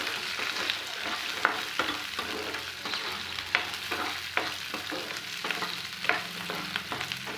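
Small peeled onions sautéing in a pan, a soft steady sizzle broken by repeated light stirring scrapes, close and fairly quiet, with no voices.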